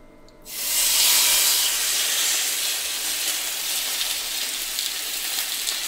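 An entrecôte steak hits a hot frying pan and breaks into a loud, steady sizzle that starts suddenly and holds close and strong to the end, with no voices.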